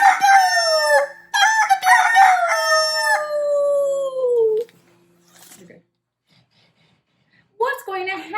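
A voice imitates a rooster's crowing in a children's puppet show, giving a loud, stretched cock-a-doodle-doo with several rising bursts before trailing off, then a pause and another short call at the end.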